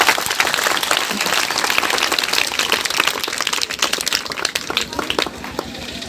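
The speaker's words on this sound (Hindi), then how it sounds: "एक बार जोरदार तालीम के लिए बजाइए" Applause from an audience seated at a school annual function, honouring the elders present; dense, close clapping that holds strong for several seconds and thins slightly toward the end.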